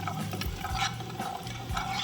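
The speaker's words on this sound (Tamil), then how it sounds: "திரும்ப ஒரு பேனில் ஆயில் சேர்த்து அது கூட கஸ்தூரி methi and red chilli powder சேர்த்து நல்லா சாட்டே பண்ணிக்கோங்க" Kasuri methi and red chilli powder sautéed in oil in a pan for a street-style masala puri, giving a steady close stirring and scraping texture with light sizzle throughout.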